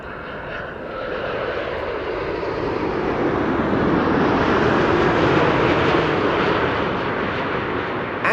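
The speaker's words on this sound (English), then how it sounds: "KLM flight 604 now touching down, arriving from LAX" KLM flight 604 from LAX touches down at Amsterdam Schiphol, a broad steady jet engine roar swelling slightly and holding loud throughout, with no voices.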